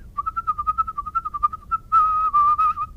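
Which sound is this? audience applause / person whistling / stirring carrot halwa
person whistling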